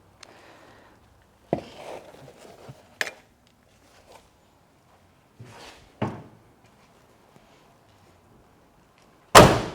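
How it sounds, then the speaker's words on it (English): Doors on a 1968 Chevrolet Camaro convertible shut with several separate solid thuds spread across a quiet stretch, the last one loudest and closest, with faint handling noises in between. "Doors shut real nice and solid,"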